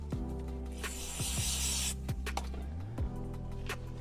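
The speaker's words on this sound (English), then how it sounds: "Just gonna spray it on the rag." Brake cleaner spraying from an aerosol can onto a rag while servicing the front brake calipers of a 2020-2023 C8 Corvette, one sustained hissing burst of about a second amid clicks and handling noises.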